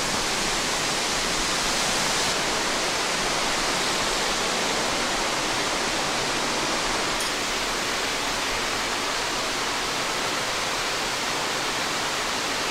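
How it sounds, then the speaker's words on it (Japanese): Steady rushing roar of a waterfall plunging into a deep plunge pool on a forested mountain slope, loud and continuous with no break, water also running alongside. "精霊の滝あった"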